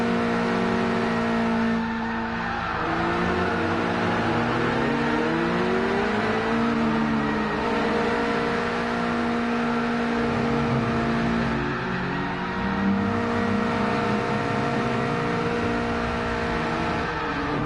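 Car engines rev in the racing video game Gran Turismo Sport, several steady whining tones rising and falling as revs climb and drop, with a continuous background drone and no talk.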